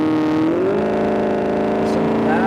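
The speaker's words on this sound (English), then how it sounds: "Listen to that exhaust." A Maserati GranTurismo in sport mode revs its exhaust in a loud, sustained, close-up drone, the engine pitch rising smoothly and then holding steady.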